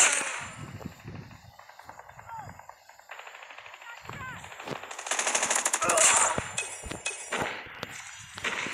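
A minigun in a Call of Duty ranked match fires in long, dense rattling bursts with sharp crackling impacts, loud and close, while someone talks over the gunfire.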